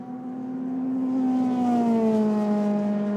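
A Euroformula Open single-seater race car accelerates onto the Mistral straight at Paul Ricard, its engine note climbing steadily and loud as it passes, with no voices over it.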